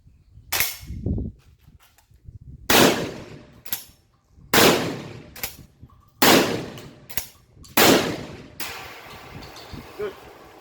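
A Pointer LR1000 lever-release shotgun fires about five loud, sharp shots outdoors, each followed by a decaying echo, with mechanical clacks of the action being cycled between shots.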